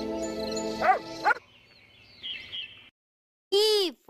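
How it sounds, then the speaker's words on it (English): A cartoon dog in a children's phonics song gives a couple of short, bright barks that rise and fall, set after a sung melody and a brief pause. "D for dog"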